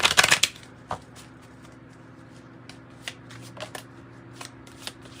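A tarot and oracle card deck is riffled in a quick, crisp burst at the start, followed by sparse soft taps and snaps of cards being cut and laid down, close and quiet with no voice.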